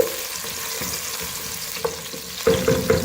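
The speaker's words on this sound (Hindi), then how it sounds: "प्याज को हम मीडियम फ्लेम पर गोल्डन ब्राउन कर रहे हैं।" Onions frying to golden brown in a pan over a medium flame for green moong dal khichdi: a steady loud sizzle with a spoon stirring, then a few firm scrapes and knocks against the pan near the end.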